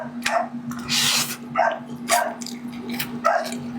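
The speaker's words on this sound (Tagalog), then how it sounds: "kaya maingay yung mga lalaking aso." Male dogs barking nearby, a series of sharp barks and yips in uneven bursts over a steady background hum, with no speech.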